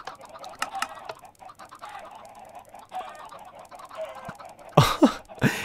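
Minecraft chickens, six of them packed into a chicken cooker farm, cluck and chirp in a steady soft stream, with a sharper, louder burst of game sound near the end.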